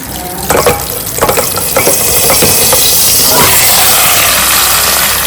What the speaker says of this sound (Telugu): మిక్సీ పట్టేలోపు ఈ ఆయిల్లోనే నేను ఈ చికెన్ వేస్తున్నాను.